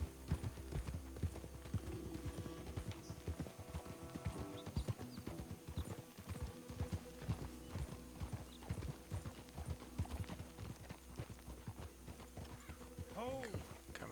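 Horse hooves clip-clop at a steady riding pace in Red Dead Redemption 2, several horses close together with a brief neigh, while someone talks over the rhythmic clatter.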